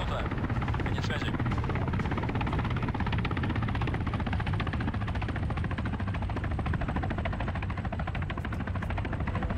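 Military helicopter in Arma 3 drawing near, a constant loud rotor thump and engine roar holding steady throughout, with voices talking faintly over it.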